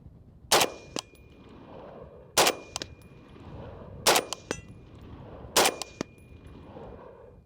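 Four evenly spaced suppressed rifle shots, each followed a moment later by a faint metallic ping as the round strikes a steel target at 115, outdoors with wind noise between shots.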